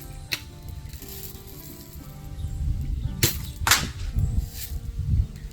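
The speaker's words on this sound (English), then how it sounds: "There's a dry fire. Another dry fire." A BB gun with a carbon fiber shot tube dry fires, giving a few sharp, brief snapping cracks spaced apart over a low, quiet background.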